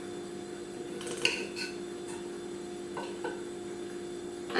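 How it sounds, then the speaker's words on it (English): A knife cuts into both sides of a kiwi resting on a plate, giving a few light scraping clicks and taps against the dish over quiet kitchen background hum. "So cut a little bit on both sides of the kiwi."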